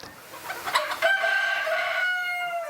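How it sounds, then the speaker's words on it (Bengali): Foreign-breed chickens, such as silver wyandotte, silkie and silver brahma, on a farm in Bagerhat give a few close clucks followed by a loud, drawn-out rooster crow. "মুরগির শরীরে যেন আলপনা আঁকা পাহাড়ি পালকে মোড়ানো এসবই বিদেশি মুরগির জাত"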